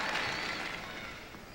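Audience applause for gymnast Alexei Nemov at the 1998 Goodwill Games mixed pairs prelims: a dense, steady wash of clapping from a large crowd, loud at first and gradually easing off.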